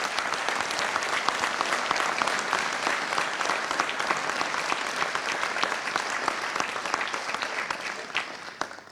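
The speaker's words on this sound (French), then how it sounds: "je vous demande de les applaudir très fort" Loud, sustained applause from a large crowd at a New Year's greetings ceremony honouring firefighters, dense continuous clapping that holds steady throughout and thins slightly at the very end.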